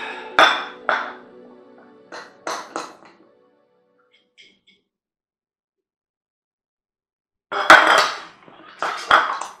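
Roasted balsamic garlic mushrooms being stirred in a pan: a few quick clinks and scrapes of a utensil against metal, a quiet pause, then another close burst of clattering.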